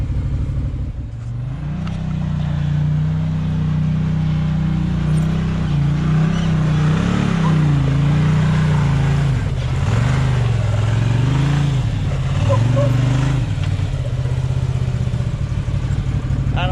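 An off-road vehicle crawls over rocks in rock mode on Maxxis Rockzilla or Tusk Terrabite tires, its engine holding a loud, steady low drone that swells and dips with the throttle, with clatter and creaks from the rough terrain throughout.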